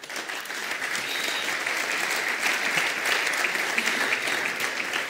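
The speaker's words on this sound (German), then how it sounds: "Bin mir sicher, den Applaus hört sie bis da," Audience applause at a digitalization conference, broad sustained clapping from a large crowd, even and continuous at a steady moderate level.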